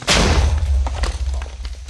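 A Minecraft creeper explosion in a video game: a sudden booming blast with heavy low rumble that decays over about two seconds, standing alone without talk.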